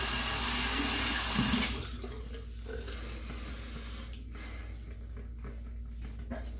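Hot water runs from a faucet to rinse a razor during a shave, a loud steady stream for the first two seconds, then a quieter trickle with faint splashes and handling noises.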